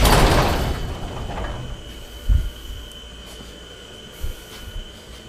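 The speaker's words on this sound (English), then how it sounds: "We will open up the door for some ventilation." A large door in a shed housing a Ford 8N tractor rolls open with a loud scraping rush at the start that fades away, followed by a couple of dull knocks and clunks.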